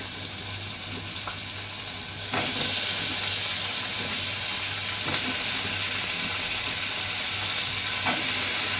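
Pumpkin pieces fry in hot oil with panch phoron spices, giving off a loud, steady sizzle and hiss close up, with occasional faint clinks and stirring noises.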